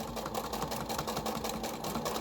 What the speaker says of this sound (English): enjoy the joy of free motion quilting